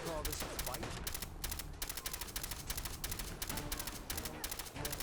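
Rapid automatic gunfire in Fallout 4, sustained bursts of sharp repeated shots in quick rhythmic volleys with short gaps, fairly close and dominating throughout.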